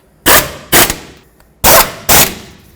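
An impact wrench rattles in four loud, short bursts, two pairs with brief pauses between them, as it bottoms out the brake caliper bolts on a 2007-14 Chevy Silverado front brake.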